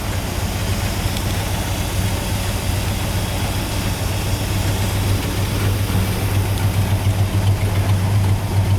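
A 1957 Chevrolet Bel Air's engine idles steadily and close by, a low even rumble with a slight rhythmic pulse throughout and no talking.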